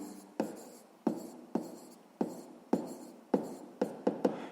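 Pen or pencil writing out a sixth-grade math exercise solution on paper: a series of about nine distinct strokes and taps, close and quiet, with brief pauses between them and no talking.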